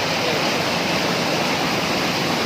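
Loud, dense rushing water of Fateh Canal near Chishtian roars continuously in the evening, a close, powerful torrent filling the whole clip with steady white-noise wash.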